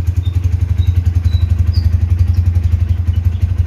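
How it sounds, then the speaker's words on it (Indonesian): Motorcycle engine idling steadily close by, a loud, low, evenly pulsing thrum with a faint mechanical clatter on top. "untuk perform suara mesinnya saya jamin kayak gini banget"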